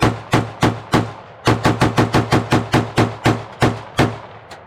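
Rapid semi-automatic gunfire from a Mark 18 rifle, about sixteen sharp, loud close-range shots in quick uneven bursts, each ending in a brief echoing decay, with no talk.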